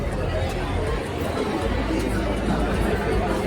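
Dense crowd chatter fills the passenger deck of a Mumbai to Alibaug roll-on roll-off ferry, a steady loud babble of many overlapping voices with a low engine-like rumble beneath, continuous throughout.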